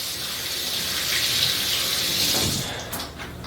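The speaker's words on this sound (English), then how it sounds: "wash my hands again" Hands are washed under a running kitchen tap during rib preparation, a steady hiss of water splashing into the sink that carries on, then cuts off near the end.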